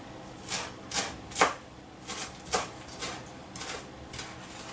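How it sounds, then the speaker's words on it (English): A knife chops a small amount of cilantro on a board: about nine distinct, crisp taps at an uneven pace, close and fairly soft, with no talking. "I've got just a little bit of cilantro I'm chopping up"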